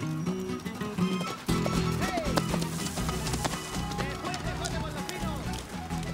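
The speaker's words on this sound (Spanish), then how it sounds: "¡Es a Dios medio chúcaro la yegua, patroncito Marcelo!" A skittish mare running and neighing, with hoofbeats and whinnies mixed under continuous voices and dramatic background music throughout.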